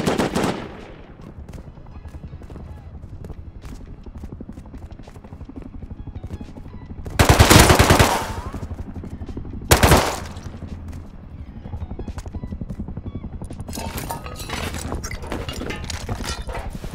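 Light machine gun fire in the video game Rust rings out in loud, short bursts around the middle, standing out over a steady rumble of game ambience with scattered softer shots near the end.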